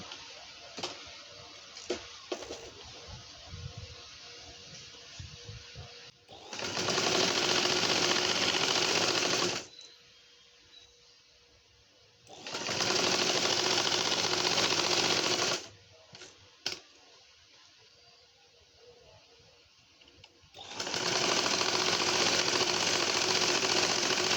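A sewing machine stitches a frilled Naira-style burqa in three loud, sustained runs of rapid mechanical whirring, separated by quieter pauses with small handling clicks.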